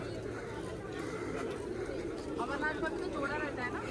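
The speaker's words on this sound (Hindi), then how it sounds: "काफ़ी कबूतर है यहाँ पर।" Pigeons coo softly in the background while people talk and chatter nearby at Pashupatinath Temple in Kathmandu, Nepal.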